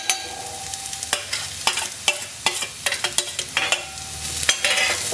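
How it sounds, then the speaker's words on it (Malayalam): Pumpkin flowers stir-fried with crushed coconut and onion over a medium flame, a ladle scraping and tapping the pan in quick irregular strokes over a low sizzle, close up, with no voices. "അതിലോട്ട് ചതച്ച് വെച്ചിരിക്കുന്ന തേങ്ങ ആഡ് ചെയ്ത് കൊടുക്കുക,"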